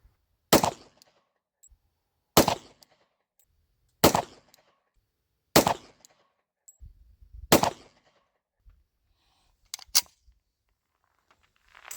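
Glock G29 pistol (Gen 4 and Gen 5) fired outdoors in a slow, steady string of about six sharp, loud shots spaced roughly one and a half seconds apart, with quiet gaps between.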